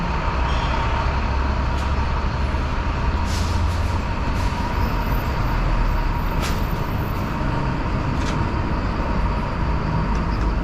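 Steady, loud rumbling subway noise fills a station at 30th Avenue in Astoria, Queens, New York, a continuous roar with occasional metallic squeals and clanks on top.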